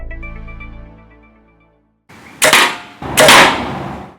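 A Magnus Killer Bee SER Razor 125-grain broadhead is shot at a steel plate: a metallic ring fades away, then after a short silence come two loud, sharp, close impacts.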